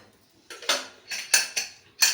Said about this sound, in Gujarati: હવે આપણે કુકરનું ઢાંકણ બંધ કરી